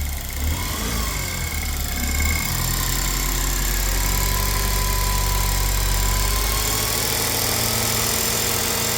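The engine of a Saturn Sky Redline car runs steadily up close after being rescued and revived, a continuous loud rumble that swells slightly as it revs.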